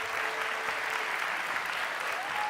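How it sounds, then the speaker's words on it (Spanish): Steady audience applause at a science and technology congress fills the whole stretch, dense and even, with a faint tone running underneath. "un fuerte aplauso a la maravillosa organización que hace todo esto posible"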